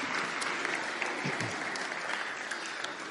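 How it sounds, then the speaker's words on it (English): A congregation at a Christmas Eve family carols by candlelight service applauds, steady moderate clapping heard from across a large room. "Let's give him another round of applause."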